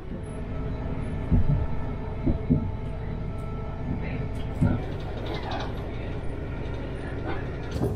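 Steady low rumble inside a ScotRail train from Glasgow to Ardrossan, with rhythmic clunks of wheels over rail joints, faint background voices now and then.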